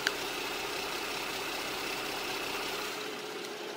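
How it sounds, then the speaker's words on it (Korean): A Kia K9 RVIP with a low-mileage GDI engine in good condition idles quietly under an open hood, a smooth, even hiss-like hum with a single faint click at the start, and no one speaking. "엔진 소음을 먼저 들려드리면은"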